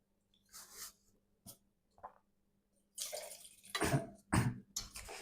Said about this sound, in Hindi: यार पानी पी लें थोड़ा सा